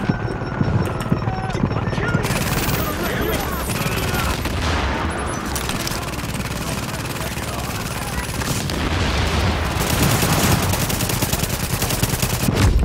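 Sniper rifle and other gunfire in the video game The Division, a dense, continuous barrage of shots and booms with someone talking and shouting over the fighting.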